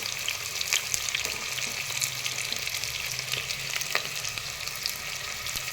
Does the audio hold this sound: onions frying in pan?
yes